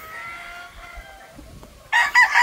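A gamefowl rooster crows loud and close, a sharp harsh call bursting in near the end after quieter clucking and faint background sounds.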